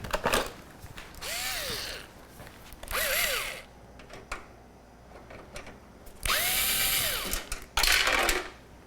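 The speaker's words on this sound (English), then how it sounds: "I need the screwdriver." Screwdriver and mechanical ratcheting work while a graphics card is pulled from a streaming PC during an AMD Ryzen upgrade; several separate bursts of close, loud whirring with rising and falling tones, broken by short pauses, no talk.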